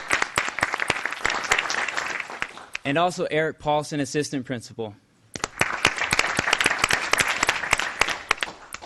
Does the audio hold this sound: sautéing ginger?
no